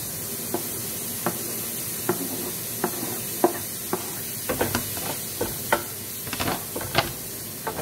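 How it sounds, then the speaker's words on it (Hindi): Chopped mushrooms sizzle in hot oil in a pan, a continuous hiss broken by regular spatula taps and scrapes that grow busier toward the end. "सो जो मैंने चॉप करके रखे हुए थे मशरूम्स,"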